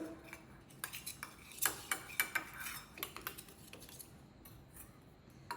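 A metal spoon stirring and mixing a thick face-pack paste in a small bowl, giving a series of light, close clicks and scrapes in an irregular rhythm, fairly quiet and with no talking.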